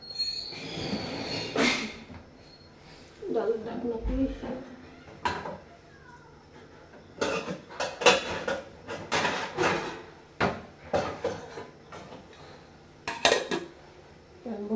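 Pots and a pan clatter and clank as a pan is set on a home kitchen stove, with several sharp metallic knocks spread through the stretch and a person talking between them.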